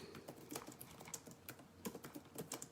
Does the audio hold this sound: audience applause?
no